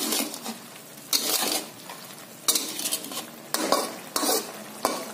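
Salt and mushroom broth seasoning being stirred into a fish curry of tilapia, with repeated scraping spoon strokes against the pan over a steady low sizzle, close and moderately loud, no talking.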